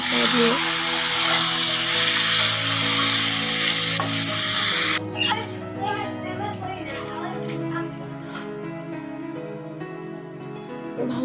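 Country chicken meat fries in a pan with a loud, dense sizzle that eases off partway, broken by the scrape of a spoon stirring; a voice talks over the cooking.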